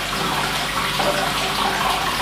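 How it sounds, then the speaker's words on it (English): Tap water from a kitchen sink pours steadily into a five-gallon batch of home-brewed dark ale, a close, continuous rushing splash with no pauses. "I'm actually taking sink water and you're pouring it in to fill up the full 5 gallons of beer"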